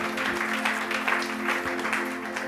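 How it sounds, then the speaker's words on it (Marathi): A church congregation claps loudly together in thanks, a dense steady wash of applause filling the space with a faint sustained tone underneath. "त्याबद्दल प्रभूला जोरदार टाळ्या वाजवून आम्ही धन्यवाद देऊया"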